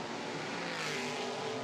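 An Aston Martin GT4 race car growls out of the Lisboa corner during GT4 qualifying at the Macau Grand Prix street circuit, a steady rough engine drone heard from a distance, moderately loud and continuous without commentary.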